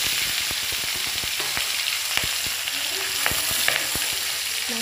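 Fish fries in a pan with a steady, close sizzle broken by frequent sharp crackles and pops throughout, and no voices.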